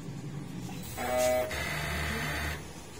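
A printer runs a print head cleaning cycle, a mechanical whir that rises into a louder buzzing, whining stretch with tonal hum, then continues as a steadier motor drone before easing off, heard alone.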